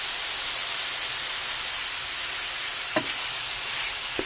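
Ground pork sautéing in a pan with a little salt added, a steady hissing sizzle throughout with a couple of faint clinks near the end, no talk.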